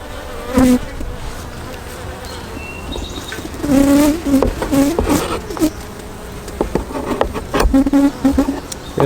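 Honey bees buzzing around an open hive, a close, continuous hum with sharper individual buzzes rising and falling as bees fly near.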